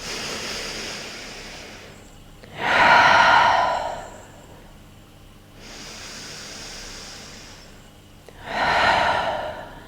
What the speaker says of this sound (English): Take an inhale here. And exhale.